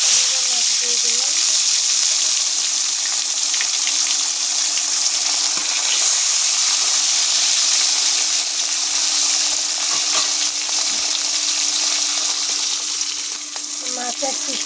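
Pieces of kalbaus fish frying in hot oil, a loud, steady, close crackling sizzle that holds evenly throughout and eases slightly near the end.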